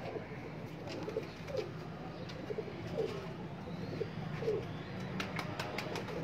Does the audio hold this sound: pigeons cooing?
yes